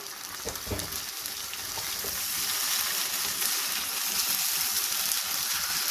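Chicken frying in a pan with garlic and ginger paste for jalfrezi do pyaza, a loud continuous close sizzle that swells and holds steady after a brief stir at the start, no talk.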